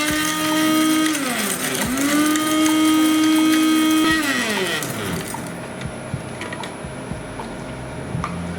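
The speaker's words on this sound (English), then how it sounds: "load it into my spice grinder, and I'm just going to grind stuff" A loud electric spice grinder whirs through dried jalapeño peppers. Its motor pitch dips and rises as the load shifts, then it winds down and goes quiet, leaving faint rattles.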